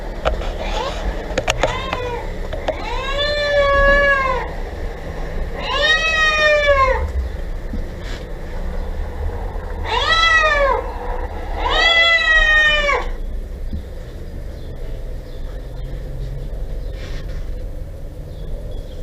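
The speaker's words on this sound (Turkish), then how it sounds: "O kedi sesini açacağım." Four drawn-out cat meows, a recording played from the internet, arrive in two close pairs over a steady low rumble. They have the slightly flat, played-back quality of a recording.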